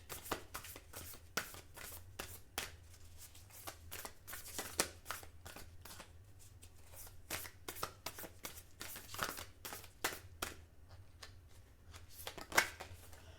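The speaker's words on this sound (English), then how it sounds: "let's go ahead and draw some Zen cards" A deck of oracle-style cards is shuffled and dealt, giving a steady run of soft riffling flicks and papery snaps close by, with a few sharper clicks and no talking.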